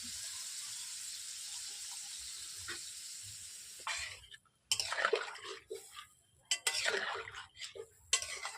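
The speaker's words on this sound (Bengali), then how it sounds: "এরপর দিয়ে দিচ্ছি সর্ষের জল।" Mustard paste mixed with water is poured into a hot wok of fried cauliflower and kohlrabi: a soft steady hiss, then a series of loud splashing, gushing bursts up close.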